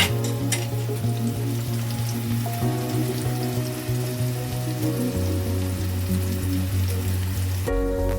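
Tomatoes and onions fry steadily in a pan for a spinach paneer curry, a dense continuous sizzle heard up close and alone throughout.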